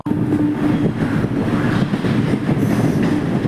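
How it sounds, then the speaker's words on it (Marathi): A train in Mumbai rumbles steadily along the rails as it departs, loud and continuous, with a faint clatter of wheels underneath. "तर आता आपली ट्रेन निघालेली आहे"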